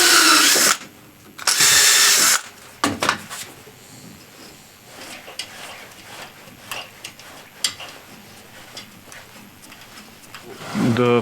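An electric drill bores back into a wooden blank to re-drill the screw hole for a Wickmark screw chuck: two loud, close whirring bursts in the opening seconds, quieter workshop clatter, then a final burst at the end.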